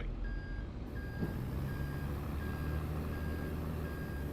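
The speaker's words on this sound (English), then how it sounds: "Get this loaded up into the haul truck." Haul truck in Farming Simulator 25 backing up, its reversing alarm sounding a steady series of evenly spaced beeps over a constant low engine rumble.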